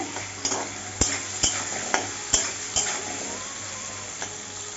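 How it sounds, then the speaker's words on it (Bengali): Vegetables fry in a pan with salt and turmeric as a spoon stirs them, making a series of sharp scraping knocks over a steady soft sizzle. "এখন ভালো করে নাড়িয়ে চাড়িয়ে ভেজে নেব"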